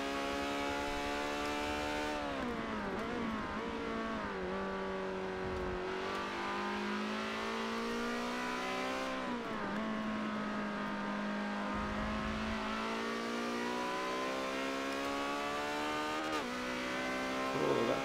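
A BMW race car engine in Forza 7 revving hard and accelerating, a steady droning whine that climbs in pitch, dips at gear shifts, then climbs again, loud and continuous throughout.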